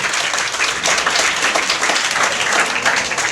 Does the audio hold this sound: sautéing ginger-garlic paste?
no